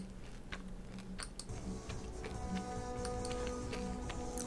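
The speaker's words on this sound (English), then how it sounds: "Sorry for my excessive chewing." Close, crunchy chewing and biting with irregular wet clicks, steady throughout, with no talking.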